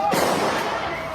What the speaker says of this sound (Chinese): 现场不断听到枪声